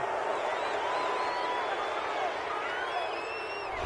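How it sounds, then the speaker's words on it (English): A stadium crowd in a PS4 football video game roars steadily at a penalty call, a dense continuous wash of boos and shouts with a few whistles rising above it, sustained and loud throughout. "this crowd does not like that call"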